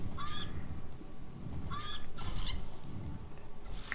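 Vermilion birds in the video game Age of Mythology call out in two sharp, honking cries about a second and a half apart, heard over a constant rumbling ambient background.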